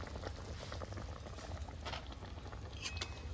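Water boiling in a cooking pot before fish goes in, heard as a steady, faint bubbling and rolling patter that continues without a break.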